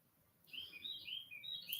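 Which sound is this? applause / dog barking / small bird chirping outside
small bird chirping outside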